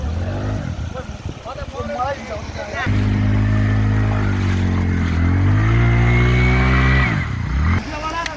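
Motorcycle stuck on a rough trail, its engine revving hard and droning loudly in sustained bursts, with people talking and shouting nearby.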